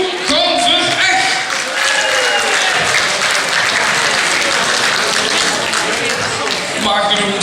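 An audience applauds prize winners at a carnival song contest, a full, sustained round of clapping with a presenter's voice and music touches audible at the edges.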